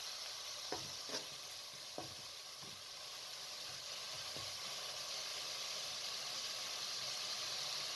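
Minced meat (keema) frying with spices over medium heat for aloo keema: a steady, fairly quiet sizzle throughout, broken early on by a few sharp clicks and scrapes of stirring.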